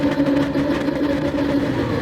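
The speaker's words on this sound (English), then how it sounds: "So revs are now up, should be off any second now." BMW M3 Cup cars rev together on the grid at Spa in a racing video game, a dense, loud engine drone with a steady low hum that holds without letting up.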